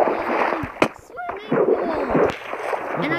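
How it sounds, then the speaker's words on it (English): A Minecraft player drops into water with a sharp splash, followed by bubbling, gurgling swimming sounds, heard close and fairly loud with a voice talking over part of it. "I heard you go into the water."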